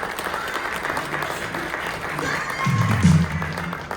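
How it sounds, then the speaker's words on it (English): Audience applause at an awards or recognition ceremony, a steady wash of clapping that swells toward the end, with voices mixed into the crowd noise. "Please give a round of applause for Ms. Richa Lamsal."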